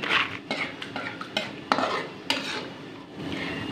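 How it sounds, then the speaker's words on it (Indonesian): Peanuts frying in a pan over a low flame while a utensil stirs them, giving repeated scraping and clattering against the metal with a faint sizzle underneath and no talking. "sekarang goreng kacang tanah kacang tanah ini sengaja saya apinya kecil biar nggak gosong"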